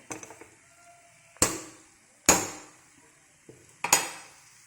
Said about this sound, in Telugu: కలుపుతూనే ఉండాలి